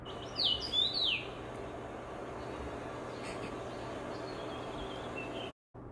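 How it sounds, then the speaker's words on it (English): A rose finch sings a single short phrase of clear whistled notes near the start, followed by quiet outdoor background hiss. "Rose finch."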